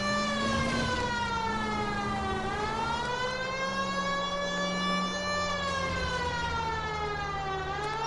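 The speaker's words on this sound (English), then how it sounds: "If you use the siren, maybe those metal things in front of you called cars will know you're in a hurry." A police car siren wails continuously in the LA Noire video game, its rising and falling tone sustained and loud with no speech over it.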